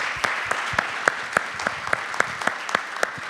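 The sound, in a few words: audience applause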